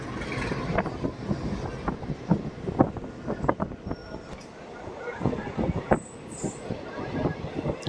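A Hindupur–Guntakal DEMU train rolls along with rhythmic wheel clacks over rail joints above a steady running rumble, heard from inside the train at moderate loudness.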